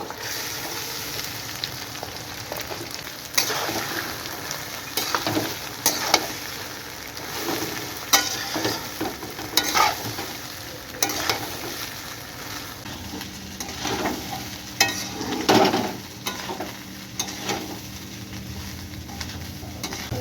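Rice with cashews, raisins and whole garam masala fries in a pan for basanti pulao. A continuous sizzle runs under repeated scraping stirs of a spatula, with no voices.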